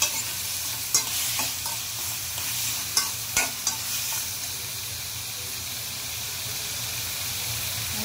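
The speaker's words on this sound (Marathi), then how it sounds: "त्याला पण 1-2 मिनिटांसाठी परतून घेऊया" Onion and tomato sautéed in a pan for an okra curry, a steady soft sizzle with several sharp spatula scrapes and taps against the pan in the first few seconds.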